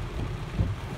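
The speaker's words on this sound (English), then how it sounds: "this is torrential downpour for Portland" Torrential Halloween downpour during a rainstorm in Portland, heard as a dense, steady low rumble and wash with a faint swell partway through.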